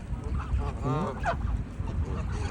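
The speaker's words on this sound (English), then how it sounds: "look how many geese came to see me today, and seagulls as well" Geese honking close by, with a loud sweeping call standing out among several overlapping honks and squawks from a large gathered flock that includes seagulls, no talking over them.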